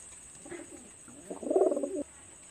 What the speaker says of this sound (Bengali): এটা হলো সিঙ্গেল একটা মায়া কবুতর, কামাগার কবুতর